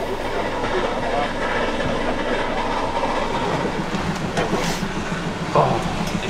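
Steam express locomotive 01 1104 runs past with a steady, loud rolling rumble and rhythmic rail clatter, a brief hiss and squeal rising near the end.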